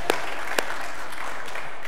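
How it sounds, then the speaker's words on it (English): A church congregation applauds after a recited scripture passage, a steady hiss of many hands clapping with a couple of sharper claps standing out near the start. "That deserves a round of applause."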